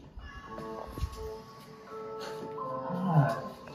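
A cat meows a few times in a cartoon channel broadcast, the calls rising over background music and sound effects, moderately loud and close.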